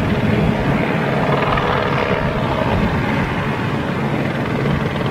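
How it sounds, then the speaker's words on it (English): A helicopter buzzes around during an Airbus anniversary fly-past at Toulouse, a loud, steady rotor and engine roar that fills the whole stretch without any talk. "I do love the sound of a helicopter buzzing around."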